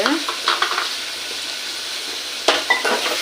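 Tomatoes sauté in a hot pan, giving a faint, even sizzle while a spoon stirs and scrapes in short bursts at the start and again near the end, heard up close without any talking.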